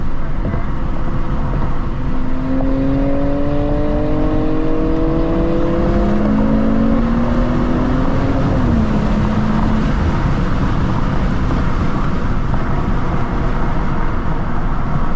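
Deep, steady exhaust drone from a car rolling past at a cars-and-coffee meet, continuous and loud throughout with a few rising and falling engine tones threading through the rumble.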